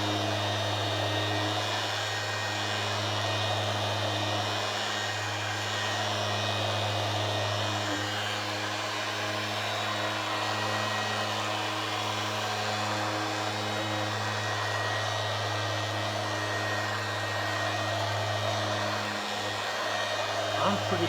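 Power sander working varnish off a wooden cabinet, held up lightly for less pressure, giving a steady, loud motor whine that runs unbroken through the whole stretch with no talk over it.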